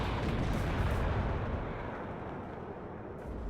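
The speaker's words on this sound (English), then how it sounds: "Was that the Bradley trying to fire a missile, or was that the mech rifles missile coming across?" Missile firing in the video game WARNO, heard as a loud, dense rumbling blast that decays slowly over a few seconds, with no voices over it.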